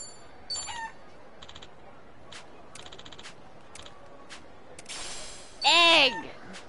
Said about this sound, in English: I gotta give the chicken some bird feed